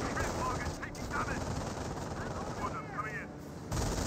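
Sustained MG42 machine gun fire in the strategy game Company of Heroes, a steady rattling stream of rounds against battlefield noise, loud and continuous with a brief dip near the end.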